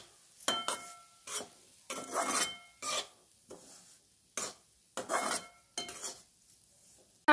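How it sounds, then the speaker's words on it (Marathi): Spoon scraping and stirring a laddoo mixture of dal and sugar roasting in ghee over low heat in a wok, heard as repeated close, uneven bursts of scraping with brief pauses between strokes. "त्याला असं 2 मिनिट चांगलं भाजून घ्यायचं."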